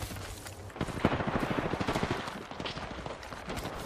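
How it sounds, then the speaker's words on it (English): Rapid automatic gunfire rattles in a tense Apex Legends fight, a dense burst of shots that rolls on for several seconds and stays loud and near. "I'm getting shot at by the whole lobby."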